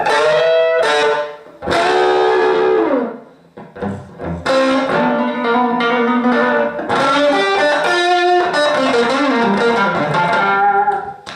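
Blues electric guitar played through a Four Force EM-1 with both pickups engaged, a crunchy, distorted tone of bent notes and sustained phrases, loud and alone, with short gaps between licks.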